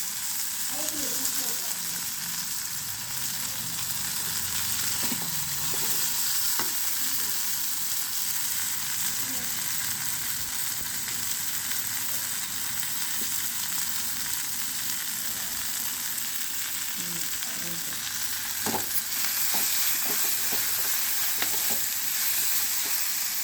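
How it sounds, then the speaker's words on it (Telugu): A ridge gourd curry bubbles and sizzles in a pan during village cooking, a soft, steady frying hiss with occasional faint stirring clicks, low and continuous throughout. "సో ఉడుకుతూ ఉంది, చూస్తున్నారు కదా, ఉడుకుతూ ఉంది, ఉడకాలి ఇది కూడా"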